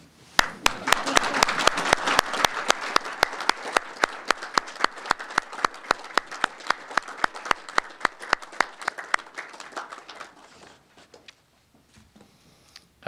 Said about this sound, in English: But you can applaud.